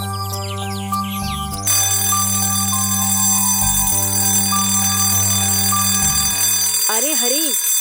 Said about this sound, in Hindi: कम से कम अलार्म तो बंद कर दे